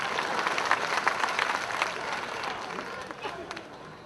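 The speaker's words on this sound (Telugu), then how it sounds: "చప్పట్లు కొట్టండి." A large crowd at a celebration event applauds steadily, a dense wash of clapping at moderate distance that tapers slightly toward the end, with voices mixed in.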